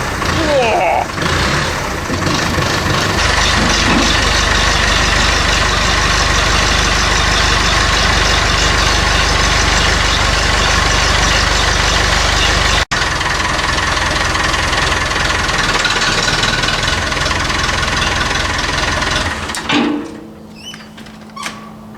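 A Massey Ferguson tractor's diesel engine runs loud and close with a steady knocking rumble for about twenty seconds before dying away, with voices faintly mixed in.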